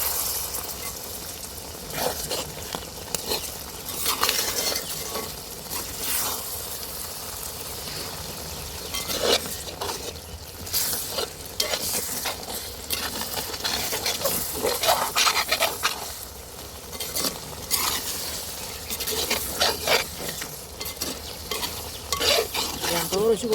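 Egg and boti curry is stirred and fried in a pan, with a steady sizzle under repeated scraping strokes of a spoon against the pan, close and continuous without talk.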